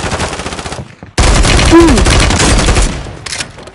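Rapid automatic gunfire in the battle royale game Warzone Resurgence: loud, close bursts, with a short break before a longer sustained volley and a final brief burst.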